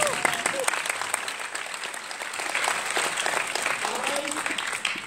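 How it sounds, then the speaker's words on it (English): Church congregation breaks into sustained applause during a morning service in Hawaii, a dense wash of clapping from many hands that holds steady for several seconds. "Somebody want to give the Lord a clap offering for"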